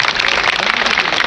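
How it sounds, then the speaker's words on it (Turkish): A crowd claps steadily at a Ford dealership opening ceremony in Milas-Bodrum, a dense, even patter of many hands with no break across the moment. "alkışlarla"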